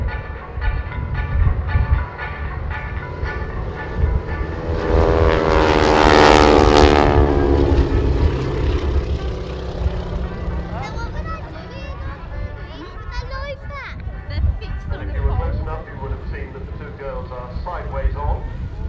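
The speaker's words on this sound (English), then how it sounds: "starting off with the stack flypast. One aircraft stacked above the other." Vintage biplanes of the Breitling Wingwalkers flying a stacked flypast, one above the other, at the RAF Cosford Airshow, their propeller engines droning loudly, swelling to a peak as they pass overhead and then fading, with a commentator talking throughout.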